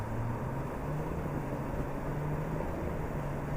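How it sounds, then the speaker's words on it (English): Low rumbling engine drone of a 2020 GMC Sierra Duramax diesel pickup truck accelerating, holding steady, a continuous diesel hum with a faint tonal whine, no voices. "Under acceleration, you hear more of that diesel typical sound."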